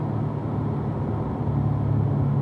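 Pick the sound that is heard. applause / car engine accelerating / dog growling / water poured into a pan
car engine accelerating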